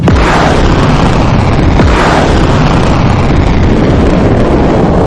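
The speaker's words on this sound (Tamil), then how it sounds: "அன்றிரவு பனிக்கால அரண்மனையை நோக்கி குறிவைத்து நின்றிருந்த போர்க்கப்பல் அரோரா புரட்சிக்கு ஆதரவாக பீரங்கி குண்டுகளை முழங்கியது" Naval cannon fire from the cruiser Aurora, aimed at the Winter Palace during the revolution: a loud, dense roar of blasts and rumbling booms runs continuously without a break.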